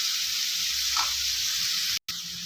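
Onions frying in oil for chicken kari dosa, cooking toward golden: a steady broadband sizzle runs throughout at moderate level, with one brief dropout near the end.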